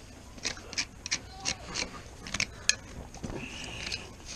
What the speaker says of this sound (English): A hoof knife.